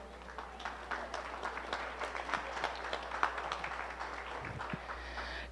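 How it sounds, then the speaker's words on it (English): Applause from an audience at a 4-H provincial beef show, moderately loud clapping spread across the whole stretch with a brief low thump near the end. "I'd just like to give a big round of applause for them."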